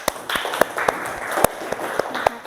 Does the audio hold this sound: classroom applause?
yes